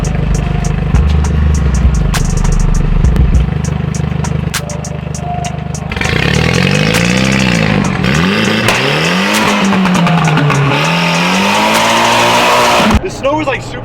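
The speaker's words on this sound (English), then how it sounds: "snow burnouts are way more fun than that" A car does a burnout in snow, engine revving loudly up and down with wheels spinning, rising and falling pitch sweeps close by, and a voice talks over parts of it.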